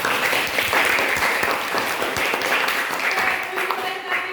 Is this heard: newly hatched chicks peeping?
no